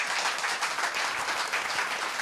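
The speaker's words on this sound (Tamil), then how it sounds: "நீங்கள் இப்போ தான் கைத்தட்டணும்." Audience applause at a Tamil stage debate event, a steady dense wash of many hands clapping together, loud and continuous with no voices over it.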